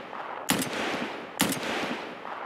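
Two sharp SVD rifle shots fired through a thermal scope in a video game, about a second apart, each a crisp crack with a short tail over faint ambient game sound.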